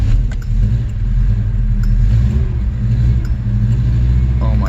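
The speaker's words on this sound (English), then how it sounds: "Give it some gas." A 1986 Subaru engine that has just started rumbles and revs up close, with a steady low drone and slight surges in pitch under it.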